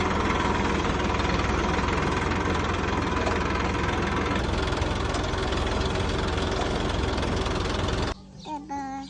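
A tractor engine idles steadily and loudly for most of the stretch, a dense continuous rumble with knocking texture, then cuts off near the end, leaving quieter background sounds.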